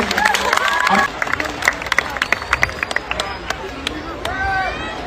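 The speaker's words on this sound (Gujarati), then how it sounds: "તાળીઓ થઈ જાય રીવા રાજ માટે।" An audience at a Gujarati film event applauds actress Riva Raj with scattered, uneven clapping and crowd murmur, while a voice speaks over it.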